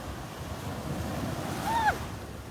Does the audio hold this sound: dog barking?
no